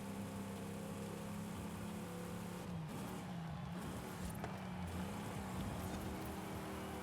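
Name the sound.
car engine revving in video game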